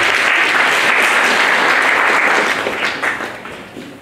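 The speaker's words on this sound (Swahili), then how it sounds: "Karibisheni na makofi." Church congregation clapping to welcome a guest, a loud full burst of applause that holds steady, then thins and fades over the last second or so.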